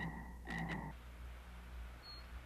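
A frog gives a short burst of croaking, a few rapid raspy pulses in a quick cluster that stop abruptly, then quiet background; faint and close, heard alone without any talking.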